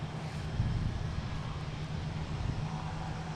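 An Airbus A330-200 at Boston Logan International Airport rumbles steadily in the distance, a low continuous engine drone with no talking.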